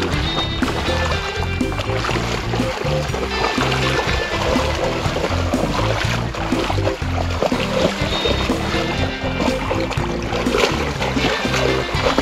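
Continuous loud splashing and churning of the Żylica river, with steady close-up water turbulence running throughout and no pauses.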